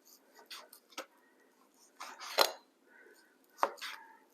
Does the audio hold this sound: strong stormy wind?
no